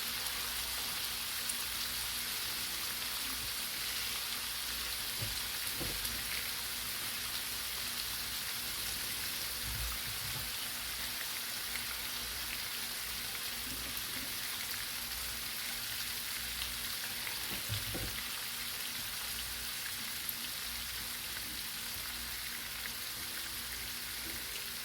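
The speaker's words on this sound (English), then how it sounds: "you're going to see the sizzle increase big time" Bacon sizzling on a flat-top griddle, a steady dense crackling hiss with faint pops, continuous and fairly quiet throughout with no talking.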